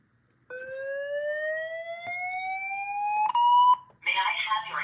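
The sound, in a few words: fire alarm sounding from a fire alarm demo board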